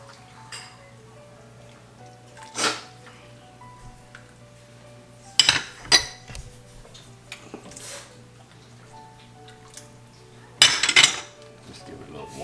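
Metal clinks of a spoon against a pot while Bun Bo Hue broth with fat is stirred, a few sharp scrapes and taps standing out over a quiet steady hum in a kitchen.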